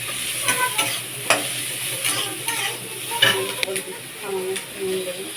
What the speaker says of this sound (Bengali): হালকা ভাজা ভাজা করে নেবে।